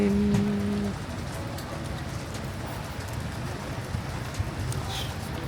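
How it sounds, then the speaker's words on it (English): Steady rain falls outdoors in a city while visitors shelter, a dense even hiss that continues throughout, with a brief tonal sound near the start. "Oh, rain, go away."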